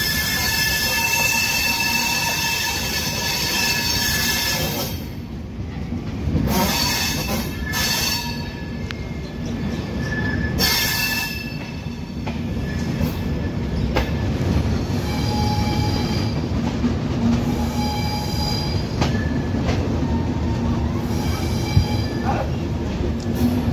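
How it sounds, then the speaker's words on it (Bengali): The 12495 Bikaner-Kolkata Pratap Superfast pulls into Kolkata station with a loud continuous rumble of rolling wagons, squealing wheels and high metallic screeches, plus repeated clanks as the cars pass over the track. "শেষে দুপুর 1:30 আমাদের ট্রেন এসে পৌঁছালো তার গন্তব্যস্থল কলকাতা স্টেশনে"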